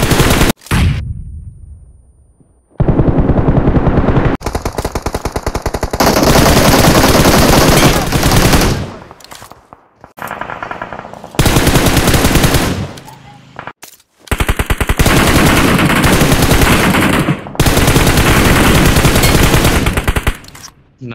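Close-range gunfire in BGMI played on an iPhone 13: loud sustained automatic sprays in long repeated bursts separated by short gaps.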